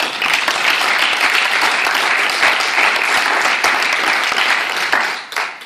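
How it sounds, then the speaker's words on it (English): Audience at a graduation ceremony bursts into sustained applause, dense and loud, holding steady for several seconds before thinning out at the end. "I think that's worth another round of applause for us all"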